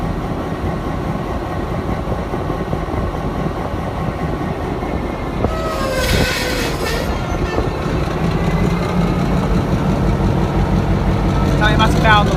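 A Geelong H set train pulls away from platform 3 on a busy station, its rumble and rail noise building steadily, with voices talking nearby throughout.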